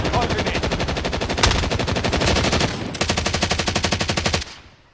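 Rapid automatic gunfire in a video game rattles in fast, evenly spaced bursts, loud and close, with one brief pause before a second long burst that cuts off abruptly.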